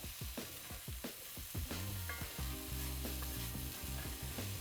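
Diced eggplant and chopped mushroom filling fries in a pan, a steady close sizzle broken by repeated scraping stirs, with a low tonal hum running underneath partway through.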